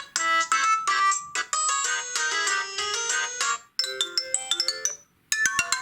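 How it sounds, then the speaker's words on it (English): A bright electronic ringtone melody from an HMD Touch 4G phone plays alone, looping through quick chimes with a couple of short pauses before starting again. "Let's see what ringtones they've actually got when it comes to this."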